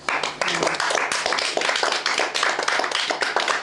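A church congregation claps together in praise of God, with a dense, steady run of hand claps that is loud and continuous for the whole stretch.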